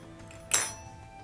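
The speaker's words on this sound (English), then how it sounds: "Let's go ahead and close the blade." A Snecx folding knife blade snaps shut with a single crisp metallic click, close and clear over a quiet low hum.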